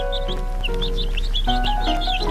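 A hen clucks while chicks peep in a quick repeating chatter, the high cheeps pulsing rhythmically over a sustained tonal bed, close and fairly loud throughout.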